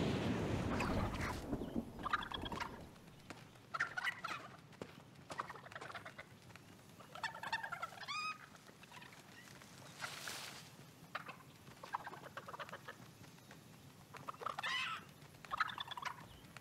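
Chicken sounds from the game Fortnite: repeated short fowl clucks and squawks in bursts across the clip, with game noise and movement sounds between them, no talking.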